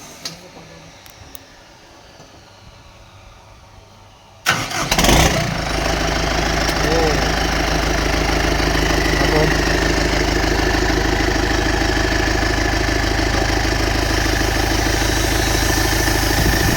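An M7508 diesel engine with a newly installed turbo starts abruptly after a few seconds of quiet, then settles into a steady, loud, rumbling idle close by.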